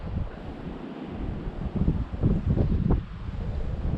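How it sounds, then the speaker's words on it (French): A strong gust of wind sweeps across an apiary in early April, a low, buffeting roar that swells midway and stays loud against the microphone. "Il y a une belle rafale de vent."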